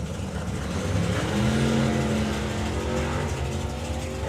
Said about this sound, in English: A very tame launch in both lanes.